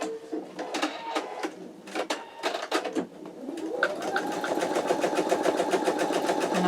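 An embroidery machine stitches color 2 of an in-the-hoop wallet, with sharp taps and clicks at first, then a steady rising hum of the machine running close by.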